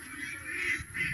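Ducks on a farm quacking and honking in a brief, steady chorus at moderate distance, with no talk over them.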